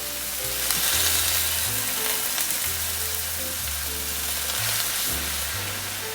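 Boiled Maggi noodles tossed into a wok for mee goreng, a dense continuous frying hiss close by with a low steady hum beneath it.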